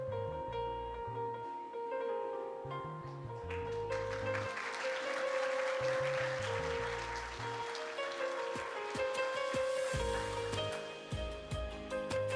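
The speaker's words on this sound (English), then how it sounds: "a round of applause for all our awardees" An audience applauds the awardees at a primary school graduation ceremony. A dense spell of clapping swells in the middle, over sustained musical tones and a low background hum.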